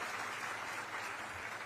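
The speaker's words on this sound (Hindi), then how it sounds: "तालियां बजती रहनी चाहिए आपके।" Audience applause at a Chhattisgarh government job-offer event, a steady dense wash of clapping heard alone at a low, somewhat distant level.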